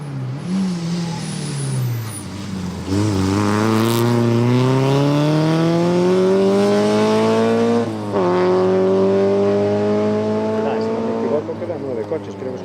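Rally cars race through the TC1 Sanxenxo stage of the 2023 Rallye de Pontevedra, their engines loud and close. Revs climb steadily in pitch, dip sharply, then climb again as the cars accelerate past.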